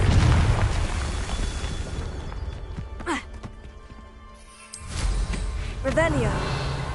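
A Confringo fire spell detonates in Hogwarts Legacy, a loud booming blast with a rushing burst of noise, set amid continuous game ambience and spoken voices, with a second surge of energy after a brief lull.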